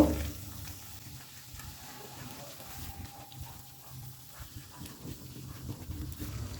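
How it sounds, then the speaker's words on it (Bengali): Fried fish stirred into a cooked spice paste in a pan gives a quiet, steady sizzle with soft scraping and shuffling, heard alone without talk. "এবার ভেজে রাখা মাছগুলো এর মধ্যে দিয়ে দেব মশলার সঙ্গে মাছটাও একটুখানি নাড়াচাড়া করে দেব"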